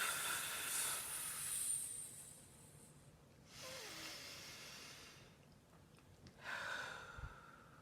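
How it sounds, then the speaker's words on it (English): A person does a slow deep-breathing exercise for anxiety, drawing air in through the nose and blowing it out through the mouth, several long close airy breaths separated by short pauses. "take in a nice deep breath. Breathing out through the mouth, in through the nose"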